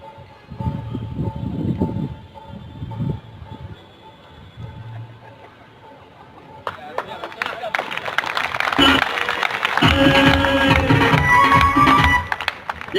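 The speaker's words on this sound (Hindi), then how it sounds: "ये ताली किसके लिए बजाई?" An audience at an RCM business seminar in Patna bursts into loud, sustained clapping that fills the room. It follows quieter, muffled speech.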